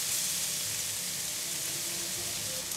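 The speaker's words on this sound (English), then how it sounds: "add in chopped garlic" Chopped garlic dropped into half a cup of very hot cooking oil in a pan, giving a loud, continuous bright sizzle that holds steady for the whole stretch with no voices.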